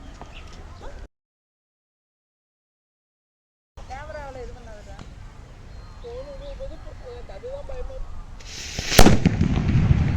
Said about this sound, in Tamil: ஸ்பைடர் பேப்பர் பாம் பாத்தீங்கன்னா கோல்டு கலர் பேப்பர் பாம் தூக்கி போடுறேன்